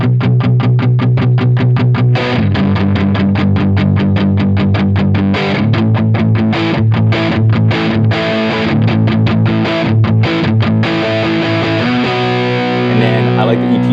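A heavily distorted electric guitar played through a Strymon Iridium amp modeler on its Punch setting with the drive turned up, loud chugging chords and rhythmic palm-muted stabs continuing without pause.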